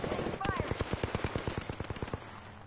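Rapid automatic gunfire in a video game, a steady burst of about twenty evenly spaced shots, loud and close, with a voice briefly heard at the start.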